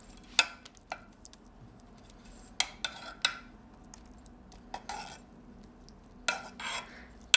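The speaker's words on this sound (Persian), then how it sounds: "خب برنج رو با ته قاشقتون کاملا فشرده کنید" The back of a spoon presses rice firmly into a pot for chicken tahchin, giving scattered sharp scraping clicks and taps of metal on the pot, irregular and quiet, with no voices.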